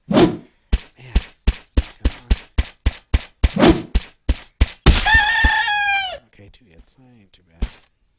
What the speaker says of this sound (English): Oh, here's the chickens.